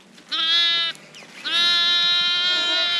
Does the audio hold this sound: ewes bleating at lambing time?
yes